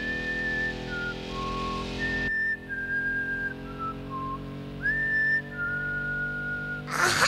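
A person whistles a melody in an anime episode, clear sustained notes gliding between pitches in short phrases with brief pauses, fairly loud and close, alone without talk until a burst of noise at the end.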